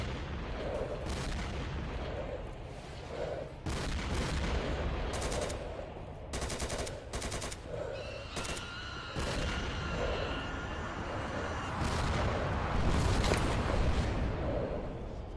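Sniper gunfire rings out in S.T.A.L.K.E.R. Autumn Aurora: a series of sharp, loud cracking shots spaced irregularly. Some come singly and some in quick clusters, over a steady background hum with no talking.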